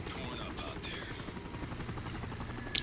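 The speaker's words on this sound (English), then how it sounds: "I'm spotted by the chopper" Helicopter in Call of Duty: Modern Warfare 3 Spec Ops mission Hostage Taker, a steady thudding rotor drone hovering nearby with occasional game effects layered on top.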